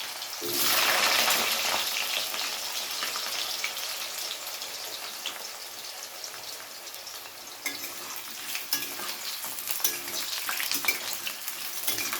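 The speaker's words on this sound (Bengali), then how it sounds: "প্রথমে আমি আলুগুলো ভেজে নেব" Potatoes frying in hot mustard oil in a wok, a loud burst of sizzling as they drop in that settles into a continuous crackling hiss with occasional pops and stirring.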